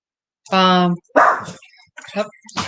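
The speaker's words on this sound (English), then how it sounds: "I hear a doggy." A dog gives a drawn-out bark or whine, then people talk nearby with a few more faint sounds between their voices.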